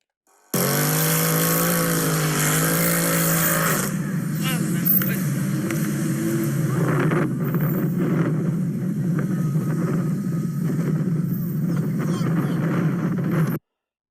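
A white car's engine revs hard with harmonics rising and falling as its tires spin and smoke, then a steady roaring hiss of engine and wind-buffeted air, loud and close, with talking mixed in.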